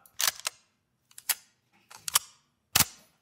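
A downloaded firearm reload sound effect for a shooter game: a few crisp mechanical clicks and clacks in separate groups, ending with a sharper shot-like crack, close and isolated.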